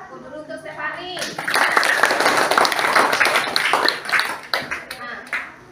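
Classroom applause for a student, a burst of many hands clapping from children that swells quickly and carries on for several seconds amid scattered chatter from the room.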